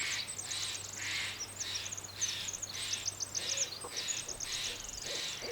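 A barred owl calls repeatedly, a run of rhythmic hooting and cackling phrases in steady succession, moderately near, with no talking.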